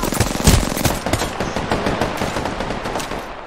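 Rapid automatic bursts from a Hemlok rifle in Apex Legends, loud and close, a fast rattling stream of shots that tails off slightly toward the end.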